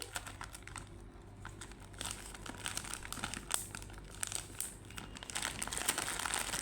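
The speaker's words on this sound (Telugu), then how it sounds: "ఇలాంటి జిప్లాక్ కవర్లో చింతపండు వేసుకొని" A plastic ziplock bag filled with tamarind crinkles and rustles up close as it is pressed shut, a run of soft crackling handling noises that grows busier toward the end.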